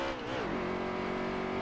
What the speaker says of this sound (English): Up through the gears, car coming around me on the right.